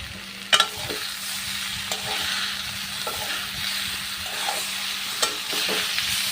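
Ground turmeric, chili, coriander and cumin stir-fried in a pan for rohu fish curry with taro: a steady close sizzle with a spatula scraping and clacking against the pan, a few sharp knocks standing out.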